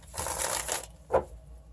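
A deck of tarot cards is riffled and shuffled by hand, a papery burst of flapping for most of a second, then a single short snap as the cards are squared, close up.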